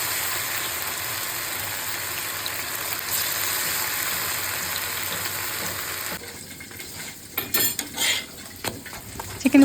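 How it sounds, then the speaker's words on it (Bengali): Marinated chicken fries in a pan with a steady loud hiss for about six seconds, followed by scraping and clinking of a utensil against the pan in uneven bursts. "সবগুলা পরোটা বানানো শেষে এখন আমি চিকেনটা ফ্রাই করব।"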